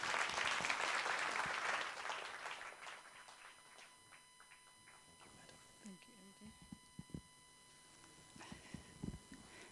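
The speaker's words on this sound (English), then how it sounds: "With a bigger round of applause" Audience applause at an Earth Hour event greets an official coming to the podium, a loud round of clapping that tapers off within a couple of seconds, followed by quiet room noise and shuffling.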